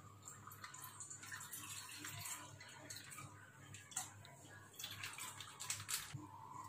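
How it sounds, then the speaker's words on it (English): Milk pours into a cooking vessel for custard, a steady splashing, trickling stream with bright bursts that continues throughout, close and fairly quiet with no voices. "So first we are going to pour the milk to the vessel."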